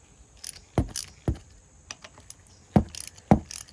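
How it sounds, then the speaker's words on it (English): Sharp metallic clicks and clacks from a 1/2-inch socket wrench loosening bolts on a Chevy R30 truck while fitting a PTO seal and gasket, a few irregular close knocks with short pauses between. "I got my 1/2-inch socket, and we're just starting to loosen up all these bolts here."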